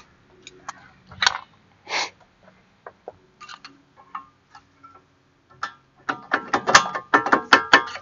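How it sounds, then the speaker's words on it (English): A flathead screwdriver pries worn brake pads off a Kia Rio. Sparse metallic clicks and scrapes come first, then a denser cluster of sharp clinks and rattles near the end, all close by. "But I'm going to get a flathead screwdriver."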